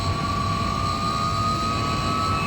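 Hawker Sea Hawk jet taxiing in a flight simulator game, a steady whining jet engine drone with a high tonal hum, continuous and even in level throughout, no talking.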